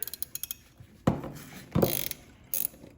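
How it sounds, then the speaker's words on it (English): Ratchet wrench loosening 8mm bolts on a turbo being removed from a Fiat 500 Abarth, with soft ticks followed by three loud, close bursts of ratcheting clicks, no talking. "next we need to remove these 5 bolts so that we can separate the turbo"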